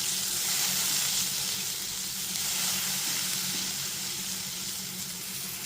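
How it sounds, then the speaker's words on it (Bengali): Spice paste of ground Kashmiri chili with a splash of water sizzles steadily in a hot pan while cooking for an eggplant and hilsa fish curry, a continuous bright hiss with soft bubbling and no talk. "এরপর মশলাটাকে খুব ভালো মতো কষিয়ে নেব।"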